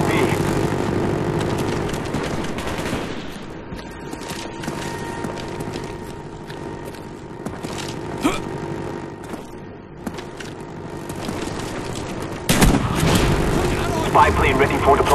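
A spy plane drones overhead in the Black Ops video game on the Stakeout map, a steady engine hum beneath game combat sounds and a voice speaking, growing louder toward the end.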